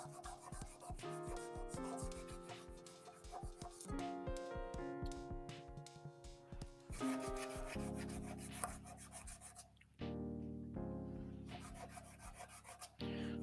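Sandpaper of 120 grit rubs against a wooden pen blank spinning on a lathe mandrel, a steady close scratchy friction under a low motor hum, shifting in tone as pressure changes.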